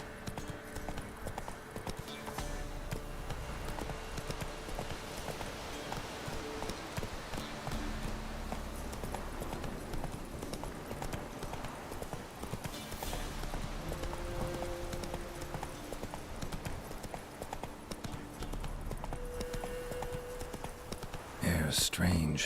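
In The Witcher 3, a horse's hooves clip-clop in a steady galloping rhythm under a dense bed of ambient game sound, continuing throughout with a louder burst at the very end.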